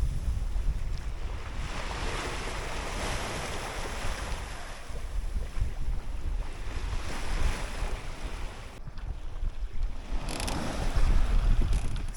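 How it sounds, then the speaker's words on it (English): Strong wind at sea on a solo sailboat, roaring continuously over rushing waves and heavy wind buffeting on the microphone, loud and steady throughout with no voices. "The wind has picked up a bit."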